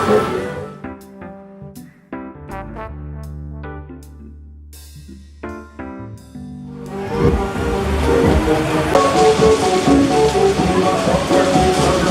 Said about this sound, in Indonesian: Hujan guys, hujan.